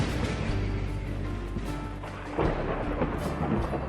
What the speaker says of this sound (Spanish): Becororoti golpeó el aire con su bastón y resonó un terrible trueno